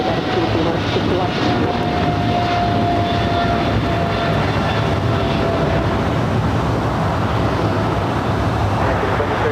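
An airliner taking off at LAX, a loud sustained roar of jet engines that fills the whole stretch, steady and close, with faint radio chatter beneath.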